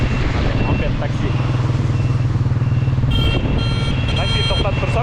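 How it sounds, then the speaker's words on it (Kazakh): A moped taxi engine putters steadily while carrying a rider toward a shopping mall in Iran after rain, a close buzzing drone that rises slightly near the end, with a voice audible over it. "Мопед такси."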